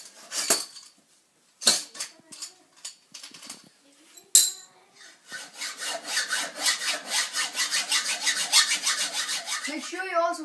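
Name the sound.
sawing through a scooter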